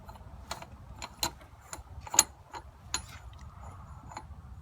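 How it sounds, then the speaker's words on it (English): A school bus fuel cap is unscrewed, giving a series of sharp ratcheting clicks spaced irregularly, close and fairly quiet against a faint low background rumble. "Next, we're going to go ahead and check the fuel cap. We're going to go ahead and unscrew it."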